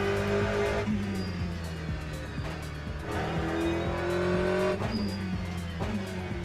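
A Ferrari race car in the Le Mans Ultimate racing game, its engine droning and shifting through gears as tyres squeal and skid, with steady loud revving throughout.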